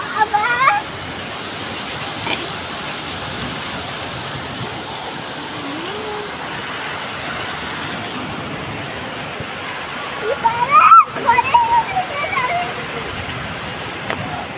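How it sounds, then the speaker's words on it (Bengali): Heavy rain with water pouring in makes a steady, broad rushing wash, and voices talk over it throughout. "বন্ধ কর, প্রচুর জল আসছে"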